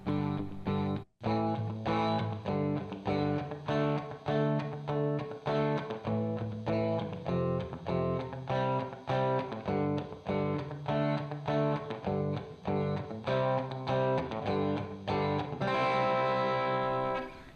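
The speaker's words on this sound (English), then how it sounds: "Here's the Low Gain Studio preset." An electric guitar played through the AmpliTube Low Gain Studio amp preset in RealBand, with a steady, lightly driven strummed chord pattern that is rhythmic, sustained and moderately loud, and no talking.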